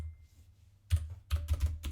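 A computer keyboard typed on in a short burst of four or five close, crisp keystrokes after a near-silent start, with no talking.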